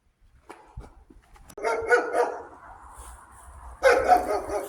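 Dogs barking at a dog centre in Spain, several sharp barks and yips in two bursts, moderately close, with no talk over them.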